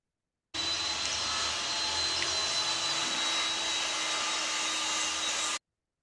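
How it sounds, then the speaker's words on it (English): A power tool runs nearby with a steady, loud whirring hum that starts abruptly, holds constant for about five seconds, and cuts off sharply. "somebody turned on a power tool."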